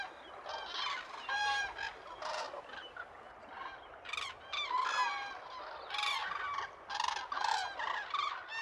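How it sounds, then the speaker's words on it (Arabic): A flock of cranes flies over shallow water toward its roost around sunset, giving many overlapping bugling, trumpeting calls throughout, moderately distant and with no talk. "تحلق طيور الكرك الحذرة فوق المياه الضحلة بحثا عن أفضل مكان للهبوط"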